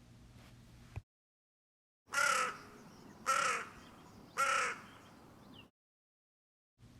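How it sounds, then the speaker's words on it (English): A big black crow in a backyard gives three loud, harsh caws about a second apart, near and clear, between stretches of near-silence. "A crow, not a raven."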